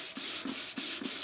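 By hand, a Mk4 Golf headlight lens is sanded in long, even back-and-forth strokes, four rhythmic gritty swipes close up, each with a brief pause between.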